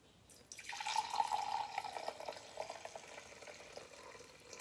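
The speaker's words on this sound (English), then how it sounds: "Gonna pour water into that." Water pours steadily into a container, a soft trickling splash that rises in pitch slightly, faint and close, with no voices.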